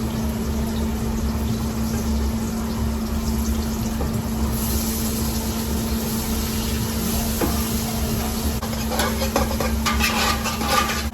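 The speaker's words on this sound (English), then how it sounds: "So I start in by putting some oil." Oil going into a cooking pan in a busy restaurant kitchen, a steady low hum and hiss with occasional clinks of pans and utensils, no voices.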